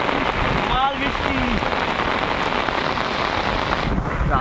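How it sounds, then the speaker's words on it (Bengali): Heavy cyclone rain pours in a loud, steady roar, hammering surfaces close by without let-up. "যে পরিমাণে বৃষ্টি হচ্ছে, কতদূর কি হবে বোঝা যাচ্ছে না"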